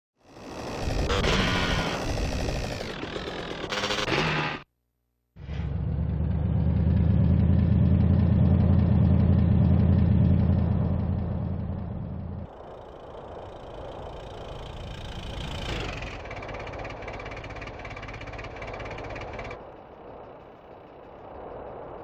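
A mini bike engine in GTA San Andreas runs loud and steady, dropping out briefly, then droning at a lower idle-like level with shifts in pitch as the bike rides on, no talk over it.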